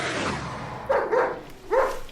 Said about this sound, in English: we hear a dog barking